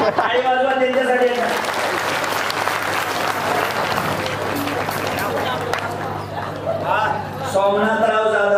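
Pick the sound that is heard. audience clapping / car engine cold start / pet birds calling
audience clapping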